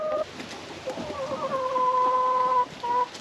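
Chickens in a garden, including one named Ben, give close clucks and drawn-out warbling calls, a few overlapping notes over a soft outdoor background.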